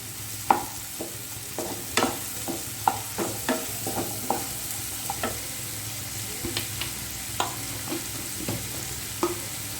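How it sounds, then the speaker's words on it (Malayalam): Onions sautéing in oil in a pan while preparing egg puff filling, a steady sizzle broken by a regular series of sharp scraping stirs, close and fairly loud, with no voices. "ഉള്ളിയൊന്ന് വഴണ്ട് വരട്ടെ നല്ലോണം"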